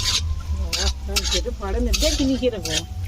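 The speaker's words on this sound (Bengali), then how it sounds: "ভালো করে ভেজে নিতে হবে" Duck egg mixed fry cooked village-style in a pan, with steady stirring scrapes and a light sizzle running beneath a voice that talks through most of the clip.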